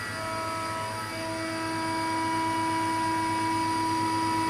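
A CNC mill cuts billet aluminium intake runners at a 2000 mm/min feed, giving a steady, high, tonal whine with sustained pitched lines, moderately loud and constant.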